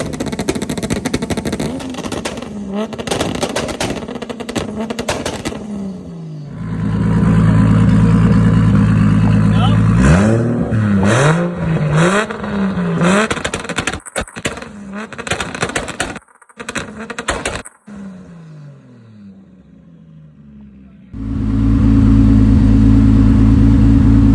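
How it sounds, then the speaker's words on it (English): A BMW E30 with a 2JZ-GTE swap revs hard, engine pitch sweeping up and down, with sharp pops from two-step and anti-lag, bursts of loud roaring between quieter idling gaps. "doing the two-step and anti-lag stuff out there too"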